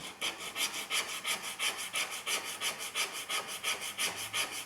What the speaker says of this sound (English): this is where good sharp sandpaper works nicely